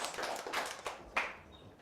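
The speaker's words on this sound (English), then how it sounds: "Clap once if you can hear me. Twice, 3 times." Several people clap their hands a few times in response to a teacher in a classroom, giving soft, uneven, quiet taps that end in one sharper clap.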